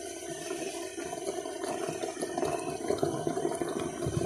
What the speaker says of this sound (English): See here, it started boiling.